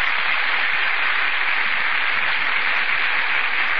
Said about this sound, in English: That burst of applause, ladies and gentlemen, is for Vivien Leigh and Laurence Olivier, who have just entered from the wings